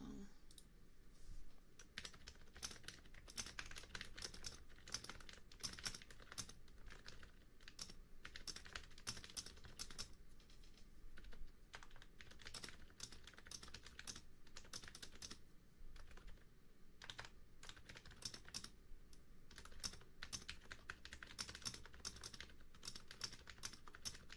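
Close, steady clicking of fingers typing on a computer keyboard, picked up by a binaural 3Dio microphone in a quiet room. The keystrokes run densely and continuously, with short pauses in the rhythm.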